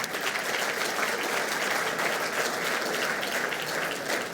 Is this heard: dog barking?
no